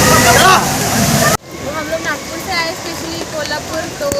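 A loud rush of falling water from Savatkada waterfall in Nitawade, Bhudargad, fills the start, then cuts to a softer wash of flowing water under people talking.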